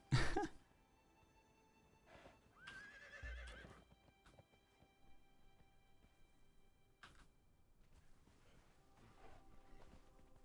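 A horse whinnies sharply in a video game, followed by another neigh and scattered hoof clops, then quiet game-like ambience with faint tones.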